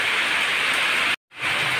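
Heavy, intense rain falls steadily on a cold, rain-soaked farm, a loud continuous wash that cuts out briefly before resuming.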